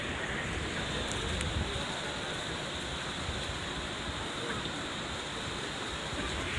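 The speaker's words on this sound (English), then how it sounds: "Well, it was torrential a minute ago, but now it's just raining a little bit." Light rain falls steadily after a torrential downpour, a faint, even hiss of drops with no distinct events or voices.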